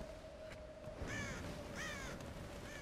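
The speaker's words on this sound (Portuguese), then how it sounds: "Eu queria atingir aquela gaivota." Two harsh seagull caws ring out in the Tomb Raider video game, each a short raspy call about a second apart, set over a steady ambient hum with no talk.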